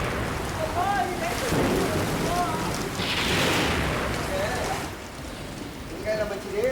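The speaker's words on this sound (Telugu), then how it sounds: "అబ్బో చూడు, వర్షం ఇంకా పెద్దదైంది." Heavy rain pouring down steadily, a dense continuous hiss that swells louder midway, with faint voices and birdlike chirps in the background.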